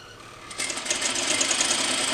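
A sewing machine stitches fabric for a DIY book sleeve: after a brief quiet start, the motor whirs into a fast, steady mechanical chatter that runs close and clear to the end.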